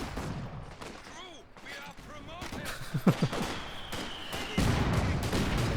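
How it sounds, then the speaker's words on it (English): Rifle grenade and gunfire in a World War II-style multiplayer shooter match, with repeated bursts of shots and booming explosions over several seconds, dense battle noise throughout. "Great rifle grenade there from DevM"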